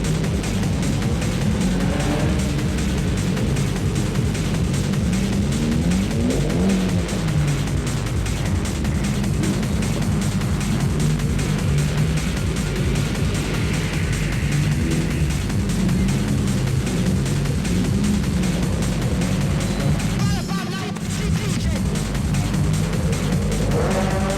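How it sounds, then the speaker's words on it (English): A fairly stock Nissan S13 drifting with its rear wheels spinning up, a loud continuous engine roar and tyre noise rising and falling throughout, with a brief drop near the end. "someone's drifting already. Although being fairly stock at this time, the S13 has no worries spinning up the rear wheels."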